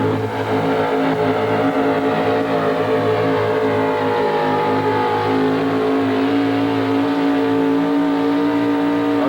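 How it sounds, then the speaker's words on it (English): A racing truck at a 1988 truck racing event at Hampton roars through a run, its loud engine drone steady and sustained throughout with no talk. "Good run by Trueblood and Loose Bones, but only good enough for 5th place"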